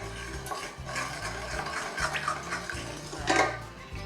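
A spoon stirs warm pickling brine of sugar and salt in a pot, giving soft swishing and light scraping that rise and fall, with a louder clink near the end over a low hum.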